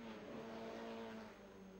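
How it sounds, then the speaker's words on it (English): The number 7 touring car racing at the Spa circuit in a 1986 Group A race, its engine droning steadily at a distance with a sustained tonal whine, fairly faint and even. "Meanwhile, the number 7 car is still going well."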